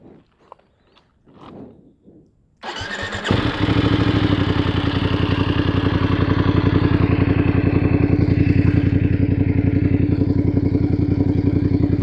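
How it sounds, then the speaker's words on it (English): A few faint clicks, then a Voge DS900X motorcycle engine cranks and starts, settling into a steady, rumbling idle through the muffler exhaust that continues to the end. "let me show you the switch on and how the muffler sounds"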